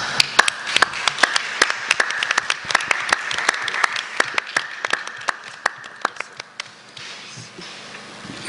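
Clapping from an audience in Grand Gedeh County, Liberia, after a presentation, made of distinct sharp claps from a modest group, fairly close, thinning out and fading toward the end.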